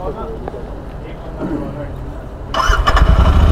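A Royal Enfield Interceptor 650 motorcycle engine fires up partway through, its rumble rising and continuing loudly over a busy background with people talking.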